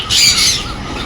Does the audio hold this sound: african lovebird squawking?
yes